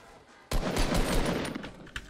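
A burst of rapid automatic gunfire in the video game Fortnite starts abruptly and rattles loudly for over a second before tapering off, with a final shot near the end.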